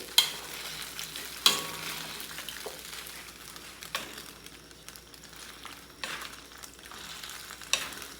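Menudo sizzles steadily while frying in a pan, with a few sharp scraping strokes of stirring breaking through the constant hiss; no voices.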